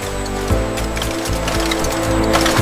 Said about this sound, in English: Every cap is tightened with exact precision.